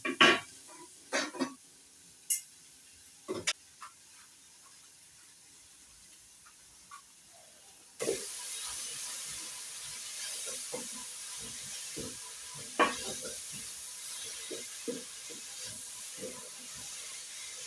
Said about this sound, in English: I will cover so that we can steam.